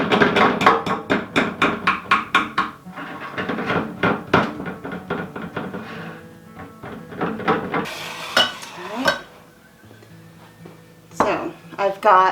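Walnuts chopped with a knife on a cutting board for a maple walnut pie: rapid, close, sharp knocking taps in quick bursts, pausing and resuming, with a few softer clatters between.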